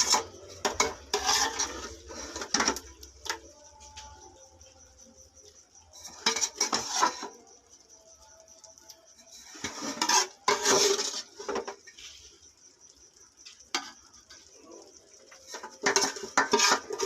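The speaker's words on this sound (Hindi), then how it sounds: "अब ये देखिए बाकी चावल हम इस पे डाल देंगे इस तरह, ये चम्मच से फैला देंगे।" Spoon scraping and clinking against a pot as rice is spread for layered biryani made with korma. Clattering bursts come in several clusters separated by quieter pauses, close and moderately loud, with no voice.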